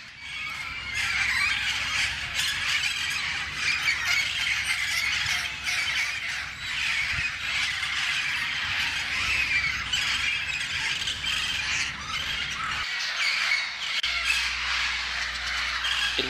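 A flock of parrots squawks and screeches continuously through steady rainfall, their harsh calls layered over a dense hiss of rain that runs almost without a break.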